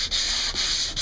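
Rapid back-and-forth sanding strokes rasp across a fibreglass impact repair on an old Albacore dinghy hull, close and steady, with three brief pauses where the stroke changes direction.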